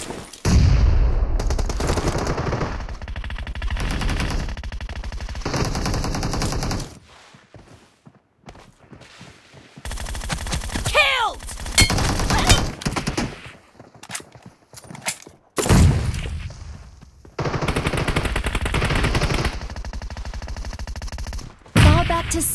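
Rapid bursts of gunfire in PUBG Mobile (BGMI) team deathmatch in a town map, loud automatic volleys broken by short pauses, footsteps and gear clatter between fights.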